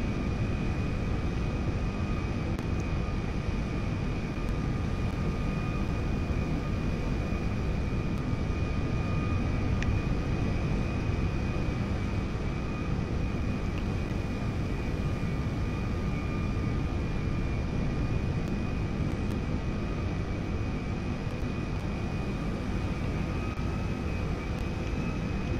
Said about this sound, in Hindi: हमारा पुश बैक तो स्टार्ट हो गया।